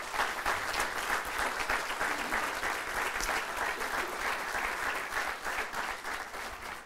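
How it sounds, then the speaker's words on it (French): An indoor audience at a special presentation on the Acadian Peninsula campus gives community leaders dense, sustained applause that stays loud and even throughout, with a slight tapering near the end. "s'il vous plaît, une main d'applaudissement à tous ces leaders communautaires"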